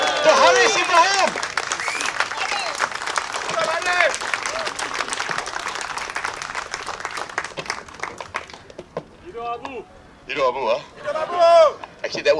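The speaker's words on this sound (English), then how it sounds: "Give a round of applause to Ibrahim." An audience at a rally against the RUU 355 bill claps in a dense patter while a voice speaks over it; the applause thins out and fades, leaving mostly talk.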